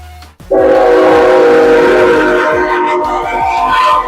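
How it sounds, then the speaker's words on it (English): A train passes close by, its loud sustained horn blaring over rhythmic wheel clatter on the rails after a brief quiet start. "Look at the train."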